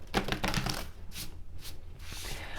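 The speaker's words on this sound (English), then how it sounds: "let's do some shuffling." Tarot cards being shuffled close by, a quiet run of crisp riffling flutters and soft taps in quick bursts, with short pauses between, and no talking.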